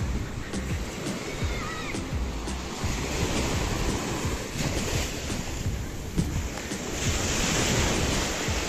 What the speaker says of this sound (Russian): А вот океан по приливу. Идет волна, но уже появляется глубина.